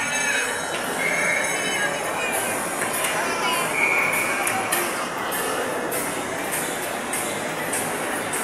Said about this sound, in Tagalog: Mini train.